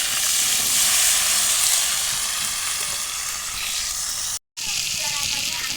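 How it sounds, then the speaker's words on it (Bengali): Raw jackfruit pieces fry in a pan for a home-style prawn curry, giving a steady, close sizzling hiss with light stirring, broken by one short silent gap. "এঁচোড় ভেজে নিচ্ছি।"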